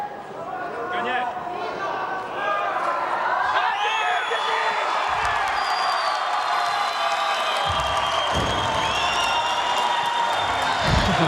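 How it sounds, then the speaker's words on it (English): A home arena crowd roars and cheers loudly after a weightlifter's successful snatch at a world weightlifting championship in the 77 kg class, with whoops and whistles rising over sustained noise and a commentator talking beneath it. "You can see hear the crowd going absolutely crazy."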